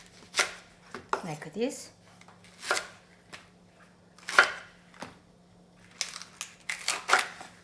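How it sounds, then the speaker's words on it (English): Knife chopping green onion into roughly 4-inch lengths on a cutting board for spicy chicken and vegetable soup, a series of sharp, separate cuts at an uneven pace, close and clear, with brief talk in between. "Green onion. So I will just cut around 4-inch long."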